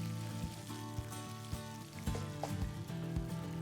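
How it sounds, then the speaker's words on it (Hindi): Chicken sizzles and fries steadily in a pan, with occasional louder clatters and stirring knocks over a continuous hiss. "और अब हम चिकन को पकने देंगे।"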